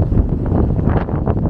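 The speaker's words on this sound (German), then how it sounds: "Sorry Leute, hier ist es windig." Outdoor wind buffets the microphone in heavy, close, low rumbling gusts that last the whole short moment, with no talking.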